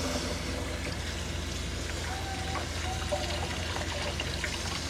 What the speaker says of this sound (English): let's go ahead and give this basil a wash